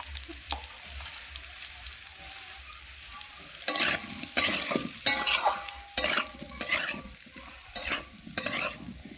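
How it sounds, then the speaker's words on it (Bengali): Potatoes dusted with turmeric fry in a pan and are stirred with a utensil. A steady low sizzle carries through, and from midway a run of loud, rhythmic scraping stir strokes comes close up with no voice. "আলুর মধ্যে আমি হলুদ দিয়ে দেবো, দিলে আরও বেশি ভালো ভাজাটা হবে"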